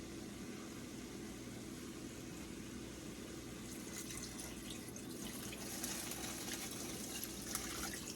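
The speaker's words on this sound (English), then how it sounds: "So the next step to this is cover it with water." Water pours steadily into a frying pan over chicken thighs, a continuous quiet splashing rush with no talking.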